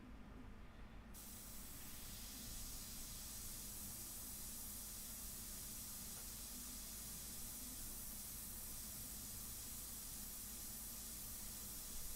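An airbrush sprays India ink at 25 psi, giving a steady, even hiss that runs unbroken for the whole stretch after a brief quieter moment at the start, close and constant with no talking.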